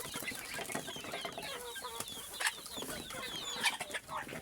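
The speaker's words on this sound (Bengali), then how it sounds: "দেখুন মুরগিটা ছেড়ে দিচ্ছে।" Native village chickens clucking and squawking close by in a busy yard, short calls repeating over low background noise, with a sharper burst midway and another near the end.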